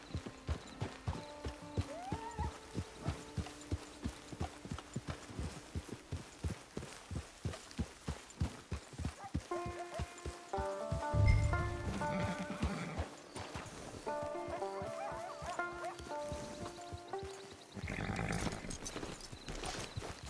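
Horse hooves clip-clop steadily in Red Dead Redemption 2 Online, a close, regular rhythmic trot running through the whole stretch, with an occasional whinny and game music underneath.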